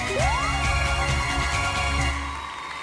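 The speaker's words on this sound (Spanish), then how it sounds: "Incluso hay detalles como los aplausos al obtener una vida extra." A short rising electronic chirp, then a burst of synthesized applause for an extra life in the Sonic fangame Sonic Aural, over game music that fades out after a few seconds.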